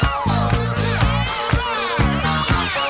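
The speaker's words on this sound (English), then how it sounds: "Guitars are panned hard left and right, and both feature some serious wah action" A funk track, with wah-wah guitars panned hard left and right over a steady thumping beat and bass, loud and continuous with rhythmic choppy guitar swells.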